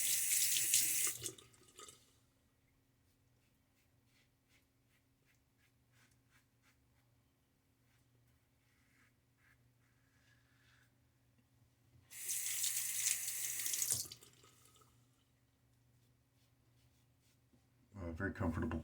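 A bathroom sink tap runs water during a wet shave, with two bursts of running water at the start and middle and a third starting at the end, and quiet razor scraping and faint sounds between them.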